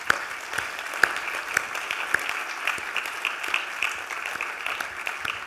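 An audience at the Hilton Humanitarian Prize Symposium applauds, producing a steady, moderately loud patter of many hands clapping in a large room with no talking.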